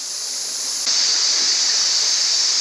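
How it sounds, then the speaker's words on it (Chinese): Jiangziliao waterfall pours at the end of a rocky riverbed in a cliff-lined gorge. It makes a steady, loud broadband rush of falling water that swells slightly after the first second and holds without a break, with no voices. "那里就是江子寮瀑布"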